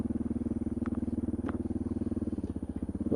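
A Suzuki DR650 motorcycle pulls away from a campsite, its single-cylinder engine thumping in a steady, close, rapid beat that rises slightly toward the end.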